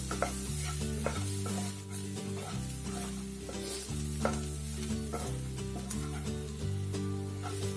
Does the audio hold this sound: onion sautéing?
yes